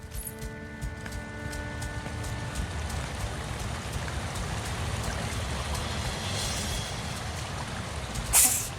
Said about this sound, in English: We hear the river.